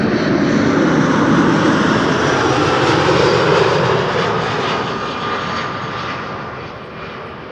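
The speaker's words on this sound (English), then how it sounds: "This is EasyJet flight 27928 arriving from Prague in the Czech Republic. A319." An EasyJet Airbus A319 landing at Amsterdam Schiphol on arrival from Prague makes a loud, broad jet roar that holds steady and then slowly fades as it passes.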